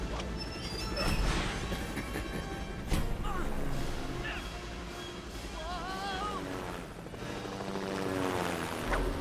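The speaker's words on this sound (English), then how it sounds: "I knew I shouldn't have let a teenager have their own helicopter." Helicopter from the video game Lego Batman 2: DC Super Heroes, a steady rotor and engine drone running throughout beneath game music and talk, with a louder surge near the start.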